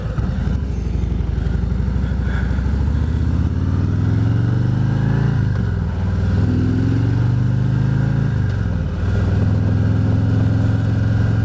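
A car passes by on the road outside, its engine swelling loud and close with a steady drone and throaty mid-range rumble that rises and dips as it goes by, heard alone without talk.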